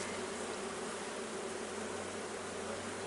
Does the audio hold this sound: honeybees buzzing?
yes